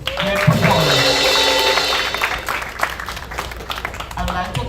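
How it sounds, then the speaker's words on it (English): An audience at a steelpan fusion festival in Tobago applauds a band's performance, a dense wash of clapping that swells loudly then thins out, with a voice speaking over it toward the end. "Give yourselves a round of applause."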